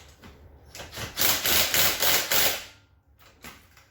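A bolt on a Husky pressure washer is tightened during an oil change. A short run of rhythmic scraping, ratcheting strokes rises and then fades, with a couple of sharper clicks after. No one speaks.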